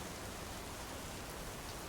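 Pouring rain in the video game Big Ambitions, a steady, even hiss of heavy downpour with no breaks, soft and continuous with no voices.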